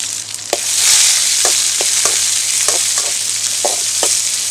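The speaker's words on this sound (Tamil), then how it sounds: "வெங்காயம் நல்லா வதங்குது." Onions sizzle in a pan with curry ingredients such as urad dal and green chillies, a steady close hiss broken by repeated short scraping stirs of a spoon.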